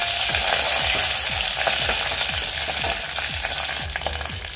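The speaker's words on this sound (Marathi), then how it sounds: "यामध्येच मी आता कढीपत्त्याची पानं घालते" Curry leaves, mustard seeds and cumin sizzling and crackling in hot oil over a low gas flame, a loud close frying hiss with repeated popping spatters throughout.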